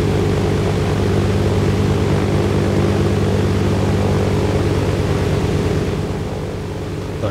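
Helicopter in the video game DayZ, a loud steady rotor and engine roar with dense rumbling noise, continuous throughout and easing slightly near the end.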